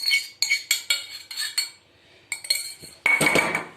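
Metal spoon clinks and scrapes against a saucepan while hot chocolate glaze with gelatin is stirred, a series of sharp close taps with a pause, then a louder scraping burst at the end.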